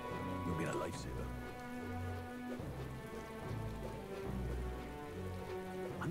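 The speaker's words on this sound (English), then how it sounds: "Oh, it's raining?" Steady rain patter in the game Metaphor: ReFantazio, layered with ambient music tones and low rumbles, continuous and moderately loud.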